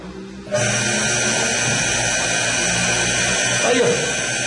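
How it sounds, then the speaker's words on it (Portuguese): A single-phase electric motor starts with a sudden rise into a steady, loud hum and whine that holds evenly, with faint voices in the background. "O motor está partindo normal."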